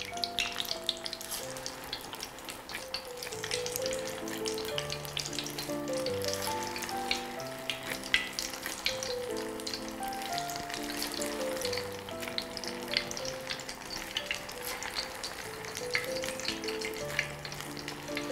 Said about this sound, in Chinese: 四成油温下入这个豆腐丸子